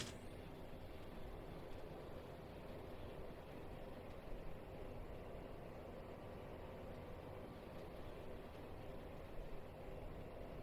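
Engine 1 of an Aerosoft CRJ550ER jet spooling up in Microsoft Flight Simulator 2020: a steady, broad engine roar with a high whine above it, constant and even throughout, heard alone.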